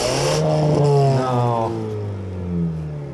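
A 2.3 liter midsize pickup truck engine revs up close, rising in pitch then settling back to a lower drone over a few seconds.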